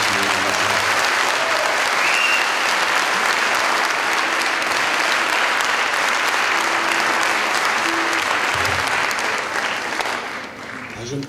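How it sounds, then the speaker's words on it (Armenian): Concert audience applauding in a theatre in Yerevan, a long, loud, unbroken wash of clapping from a large crowd with occasional voices mixed in, tapering off near the end. "ձեր ծափերը մեզ ոգևորում են"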